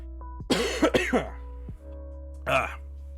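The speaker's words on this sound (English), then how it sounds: "Had to clear my throat for a second." A man clears his throat at close range in a few rough bursts over steady background hum, with a short pause between them.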